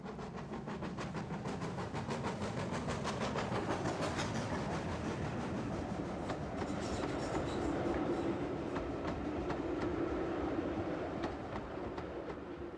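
GWR steam locomotive 7827 Lydham Manor, a 1950-built engine, runs along the Torbay line with a continuous rumble and rhythmic clickety-clack of wheels on rail joints, steady and fairly close.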